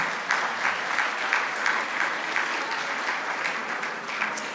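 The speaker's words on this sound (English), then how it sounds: "May I ask you to join me for a round of applause to all the staff that actually makes this happen." An audience at a State of the City event applauds the Club Roma staff, with steady, even clapping from a sizable crowd that holds at a constant level throughout, with no voices.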